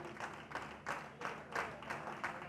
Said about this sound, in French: que je demande d'applaudir très fort